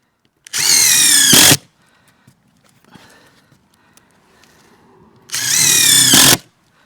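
Power drill driving screws into a timber floor base for a garden studio, two loud bursts of about a second each with rising whine as the screw bites, separated by quiet handling noises.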